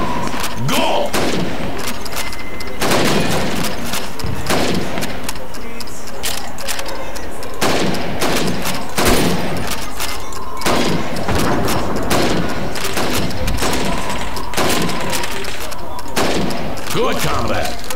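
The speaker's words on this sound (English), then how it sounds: "You have 15 seconds to shoot the helmets." Repeated rifle shots in Call of Duty 2 as a Soviet recruit fires at helmets on a training range under a time limit, sharp cracks coming steadily and loud across the whole stretch with some voices in the background.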